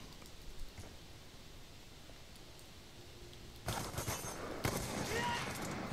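Rapid gunfire from Black Ops 2 against practice bots, a dense burst of shots starting partway through after a quiet stretch, close and fairly loud.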